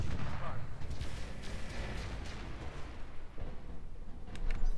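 A rotary autocannon spins up and fires in the BattleTech RogueTech game, a dense, rumbling stream of heavy rapid shots and booms that lasts the whole stretch and swells louder near the end.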